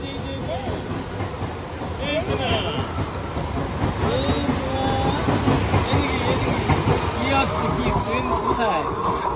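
A passenger train runs on rails with a steady loud rumble and clatter of wheels throughout, heard from inside a carriage, with people talking over the noise.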